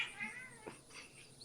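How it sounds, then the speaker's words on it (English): A cat meows softly a couple of times, faint and fairly close, with a rising, wavering call over quiet background. "My cat is calling."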